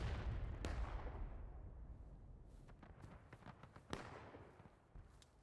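Cannon fire in the Civil War battle game War of Rights on a wheat field map: an opening deep boom rolls into a long, fading rumble, followed by a few sharp distant reports.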